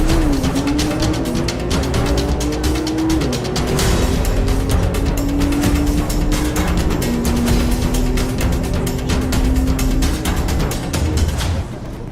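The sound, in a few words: yellow Porsche drag racing car accelerating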